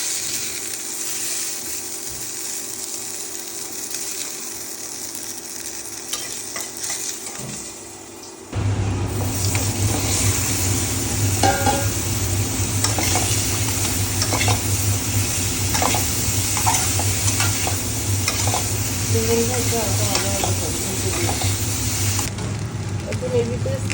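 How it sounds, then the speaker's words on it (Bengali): Broad beans frying in a pan after fish and potatoes: a quiet hiss that jumps to a loud, continuous close sizzle partway through, with faint clinks over the constant frying. "সিমটা একটু হালকা ভাজা ভাজা করবো।"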